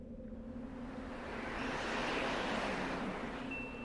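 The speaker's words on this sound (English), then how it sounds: "The wind's getting worse." Steady wind roars in a broad, rushing wash that swells slightly midway, with no voices over it.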